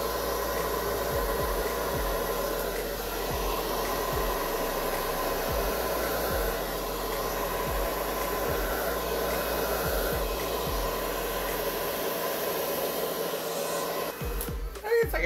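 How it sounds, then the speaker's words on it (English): A blow dryer runs steadily on acrylic paint during a bloom-style pour, a continuous loud airy whoosh that holds for nearly the whole stretch before cutting out at the end. "we're using the blow dryer"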